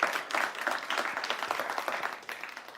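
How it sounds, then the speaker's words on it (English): Audience applause fills an event hall at a master's programme opening, dense steady clapping from a crowd at moderate distance, continuous throughout with no voices over it. "I would like to ask the full team to stand up and just get a round of applause"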